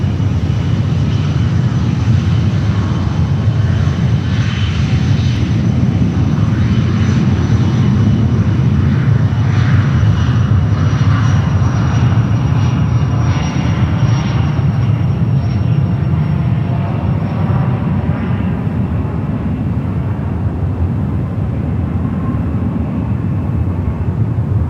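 A CRJ regional jet takes off at San Francisco International Airport, its engines giving a loud, steady roar that holds strong and close for the whole stretch with a slowly shifting whine on top.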